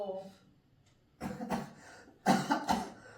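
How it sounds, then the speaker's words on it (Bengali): A person in a home coughs in short clusters, two bursts of harsh throat-clearing coughs with a faint voice earlier, fairly close and moderately loud. "আবার কাশি শুরু হলো কি না কাশি হচ্ছে মাঝে মাঝে একটু খুসখুস করে গলাটা কাশি হয়"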